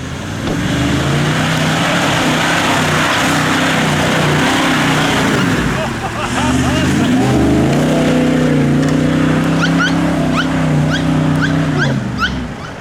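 A 4WD vehicle on a bush track revs hard in second gear, its engine droning loud and steady, rising in pitch partway through, with a dog whimpering faintly near the end.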